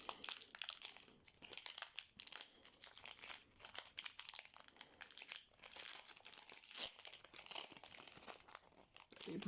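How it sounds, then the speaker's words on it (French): Pokémon Scarlet & Violet Paldean Fates booster packs are torn open and handled, with continuous close crinkling and rustling of foil wrappers and cards in irregular bursts, quiet and without speech. "Les boosters s'ouvrent extrêmement bien, je trouve."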